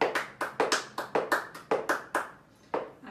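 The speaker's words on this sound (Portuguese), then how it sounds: "Depois intercalando com duas palmas." Sharp percussive taps and claps from a tap dancer in an intermediate lesson, a quick rhythmic run of distinct close hits with a short gap near the end before one more strike.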